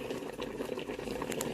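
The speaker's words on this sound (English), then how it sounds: "Boiling." A pot of rice boiling on the stove, a steady bubbling and churning hiss that stays close and even throughout with no voices over it.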